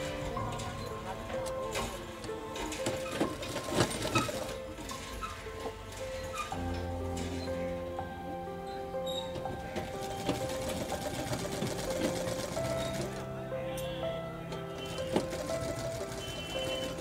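A sewing machine stitches a readymade coat's opened seam closed during an alteration, a steady mechanical run with faint ticking over continuous background sound and some music-like tones.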